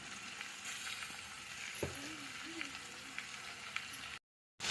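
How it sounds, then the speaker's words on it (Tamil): Vegetables sauté in oil for a wedding-style sambar, a faint steady sizzle and crackle close by with a few light clinks of stirring, then a brief cut to silence near the end. "இப்போ இந்த காய்கறி வந்து ஒரு 10 நிமிஷம் நல்லா அந்த எண்ணெயிலே வதங்கி நல்லா அதோட பச்சை வாசனை எல்லாம் போகணும்"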